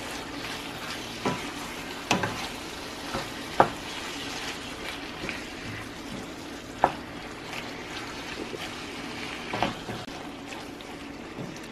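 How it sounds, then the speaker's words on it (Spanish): Shrimp sizzle in a hot pan for golden tacos, a steady crackling fry with occasional sharp pops and scrapes of stirring, close and moderately loud with no talking. "Dejamos aquí que nuestro camarón se dore también un poco."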